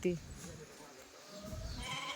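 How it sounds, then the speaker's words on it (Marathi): A sheep gives a single short, close bleat at the start, followed by quiet background sounds and murmured voices. "कशी ओरडते ग ती मेंढी कशी वरडते"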